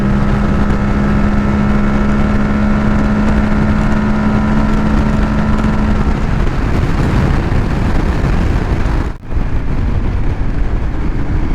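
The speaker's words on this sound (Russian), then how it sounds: "Вот полный газ!" A Honda Africa Twin or Aprilia Tuareg 660 adventure motorcycle at full throttle gives a loud, steady engine roar with a sustained drone, then a brief dip before the roar continues, with no talking.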